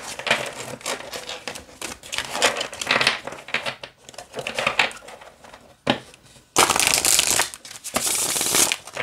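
A deck of oracle cards is shuffled repeatedly up close, with riffling, rustling bursts broken by brief pauses, ending in a long, dense flurry.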